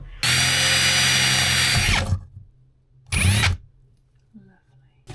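A power drill bores a hole in the metal body of a Mercedes Sprinter van: one loud, steady two-second burst, a pause, then a short second burst, close up.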